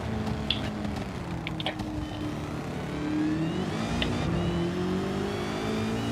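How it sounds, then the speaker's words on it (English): A Dodge Demon's engine whines loudly and steadily in Gran Turismo 7, its pitch rising and shifting as the car accelerates, with no voices over it. "That Demons is the most loud. It whines so loud."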